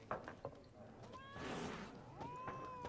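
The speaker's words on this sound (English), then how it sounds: "This cat is so angry." An angry cat meows and yowls in The Witcher 3, several drawn-out rising cries with short sharp calls mixed among soft game ambience and background noise.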